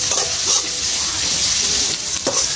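Fish and vegetables for a Bengali rupchanda pomfret curry fry and get stirred in a pan until browned, a steady close sizzle with scraping stirs and clinks, no talk.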